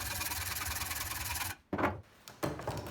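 Wire being cut with snips while shaping a fantasy figure's wire skeleton: a steady rasping, scraping run that stops abruptly, then two short sharp bursts of snipping and scraping close by.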